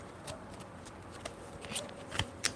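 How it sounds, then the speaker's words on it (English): A deck of cards is shuffled by hand, soft riffling bursts and flicks at close range, quiet and uneven, with a few sharper snaps near the end. "I feel like I need to shuffle the deck."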